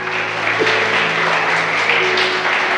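A church congregation applauding together, a steady broad wash of clapping that holds at an even level for the whole stretch, with a faint sustained organ or keyboard tone underneath.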